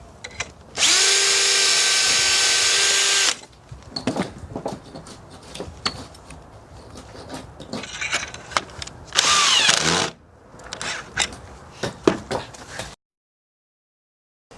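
A power drill bores a hole through wood in a pocket-hole jig, giving a loud, steady whine for about two seconds, then a second shorter burst later, with clattering handling noises and taps between, close up.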